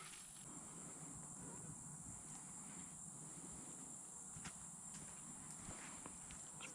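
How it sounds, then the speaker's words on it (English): Live crickets kept as fishing bait chirp steadily in a continuous high drone close by, with faint shuffling and footstep-like taps beneath, outdoors by the water. "Got our crickets right there."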